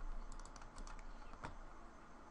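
Faint computer keyboard keys clatter in a quick cluster of taps while a Control V paste is pressed, ending with one sharper click, heard close over quiet background hiss.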